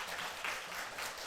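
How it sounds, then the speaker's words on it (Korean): A church congregation applauds the choir during a Sunday service, a dense, even patter of many hands clapping at once, fairly soft and distant, with no speech over it. "우리 한번 찬양대 박수 한번 부탁드립니다."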